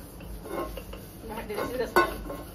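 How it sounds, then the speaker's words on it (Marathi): A mother scrubs dishes and pots by hand with a circular motion, giving soft scraping, rubbing and occasional light clinks of utensils, fairly quiet and close, with a sharper clatter near the end. "तर बघू शकतो मम्मी या प्रकारे अशी भांडी घासते गोल गोल गोल गोल घासून"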